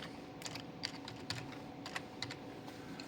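Quiet keystrokes on a computer keyboard, used to enter a sample name into FTIR instrument software, a handful of light, irregular clicks spread over a few seconds against faint room hum.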